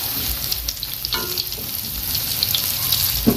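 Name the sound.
frying boiled cassava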